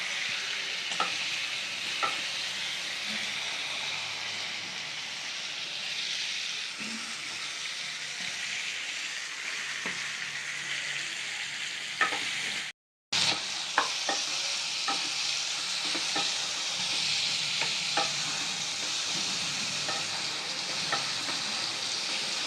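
Cumin paste fries in a pan for a chicken liver curry, a steady close sizzle broken by scattered scraping clicks of the stirring spoon, with one brief dropout midway; no one speaks.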